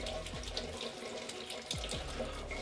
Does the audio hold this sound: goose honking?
no